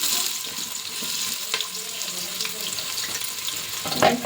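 Sliced onions drop into hot oil for paneer biryani, giving a steady crackling sizzle with a few stirring clatters and a louder hiss near the end.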